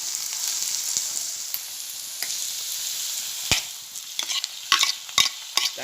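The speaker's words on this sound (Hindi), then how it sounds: "अब मैं इसमें टमाटर डालूंगी," Tomatoes fry with onions in a pan for methi bhaji, giving a steady soft sizzle with a spoon scraping and knocking against the pan in irregular strokes, growing more frequent toward the end.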